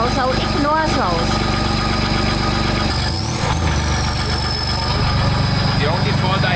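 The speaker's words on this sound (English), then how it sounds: "all the obnoxious noises like rattling or everything, you know, the engine is bare right now" A bare Land Rover diesel engine idles loudly and steadily up close with a constant rumble and metallic rattling, while a voice talks over it.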